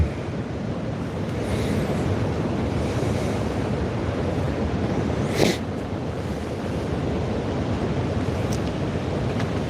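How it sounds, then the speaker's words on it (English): Strong wind rips past a ground hunting blind in sleet and fog, a constant loud rushing buffet against the microphone with a brief sharper gust partway through. "that wind is just ripping right now"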